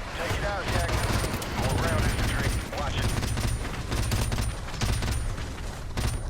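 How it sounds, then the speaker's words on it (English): Rapid gunfire bursts from an overheating weapon in Call of Duty: Modern Warfare Remastered, loud short volleys of shots repeating throughout, mixed with game combat noise and some voice chatter. "especially if your gun gets overheated a little bit, so you actually had to fire it in short bursts"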